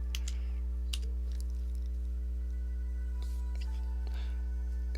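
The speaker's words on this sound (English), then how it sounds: "So right here we're going to type for target, we're going to type in" Keys clatter on a computer keyboard while a command for the Nmap network scanner is typed, irregular bursts of clicks over a steady low electrical hum, no talking.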